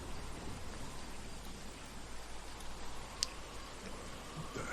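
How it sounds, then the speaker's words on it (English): Steady rain pours during a dramatic rainstorm in Telltale's The Walking Dead, a dense continuous hiss of drops with one brief sharp tick partway through. "love a dramatic rainstorm like this"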